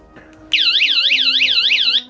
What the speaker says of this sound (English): you hit that alarm and anybody in the area is gonna hear it